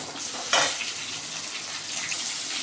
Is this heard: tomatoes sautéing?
yes